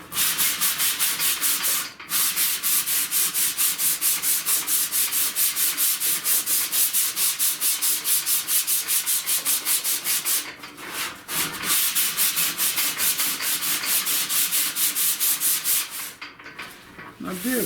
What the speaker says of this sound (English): I'm gonna grab some sandpaper.